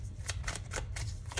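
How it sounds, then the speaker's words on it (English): A deck of tarot cards shuffled by hand, close and fairly loud, with a run of quick papery slaps and riffles falling in an uneven rhythm, with no talking. "I'll go ahead and put them back into the deck and continue shuffling"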